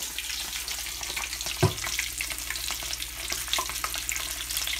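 A headless fish fries in hot oil, giving a close, steady, crackling sizzle with one sharp pop partway through.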